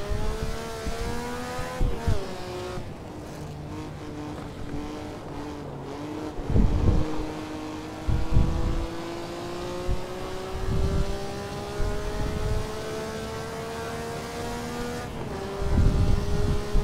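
Maserati 250F racing car engine in the Assetto Corsa game, a steady high-pitched engine drone rising through long gears with brief shifts and bursts of revving, heard alone.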